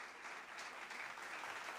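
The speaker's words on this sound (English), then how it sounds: "Let us give a huge round of applause for Sir." Sustained applause from a large graduation ceremony audience, steady and dense throughout without a break, heard from a distance within a big hall.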